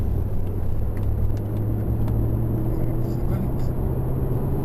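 An Audi R8 engine accelerating hard on track at Thruxton, a steady loud rumbling drone that holds throughout, heard close from onboard with a voice speaking over it.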